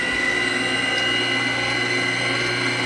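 An Acekool MC1 stand mixer runs steadily at its lowest speed setting, mixing cupcake batter with four eggs, giving a continuous close mechanical whir with a faint rattle, no voices.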